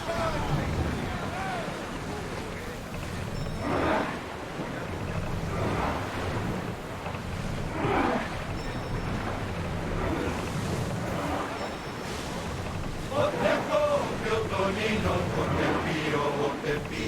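A sailing ship moves across the open sea in Assassin's Creed Odyssey, with steady rushing wind and waves washing against the hull throughout, and voices speak over the sea.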